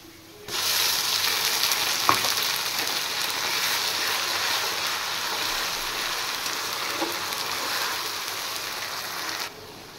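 A paste of ginger and onion hits hot oil in a pan and sizzles loudly, a steady, hissing fry that starts abruptly and holds evenly with a faint clink of utensils, then cuts off near the end.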